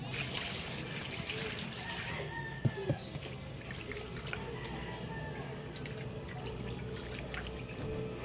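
Tilapia fish being rinsed in water, with a steady, fairly quiet trickle and splash of running water, broken by a couple of brief knocks near the middle.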